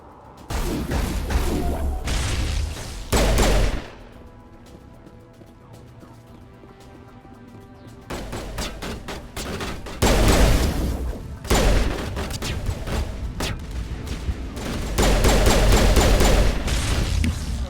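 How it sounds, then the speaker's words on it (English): Grenade explosions in Mass Effect Legendary Edition (Mass Effect 1): loud, heavy booming bursts with crashing debris. They come in clusters, with a quieter stretch of game music and ambience between them. "These grenades work well."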